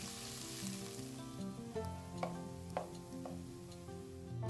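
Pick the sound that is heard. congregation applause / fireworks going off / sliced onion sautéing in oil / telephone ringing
sliced onion sautéing in oil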